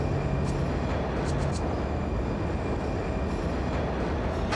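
A train rolls past a rail work area in a loud, continuous rumble with steady wheel and carriage noise, close by and unbroken, no voices.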